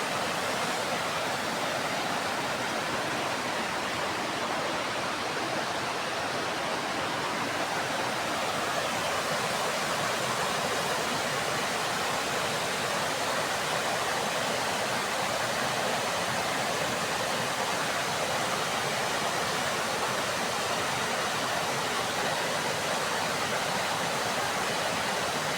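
A waterfall near the Ferpècle dam in the Swiss Alps roars as a steady, broad rushing wash of water, loud and unbroken for the whole stretch, with no voices.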